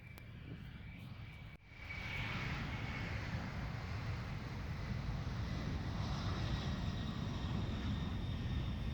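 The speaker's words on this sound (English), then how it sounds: "We're doing a little bit of plane spotting." An airplane at Memphis International Airport roars from a fairly close position, a loud broadband engine rumble that jumps up abruptly after a brief dip and then holds steady, with no talking.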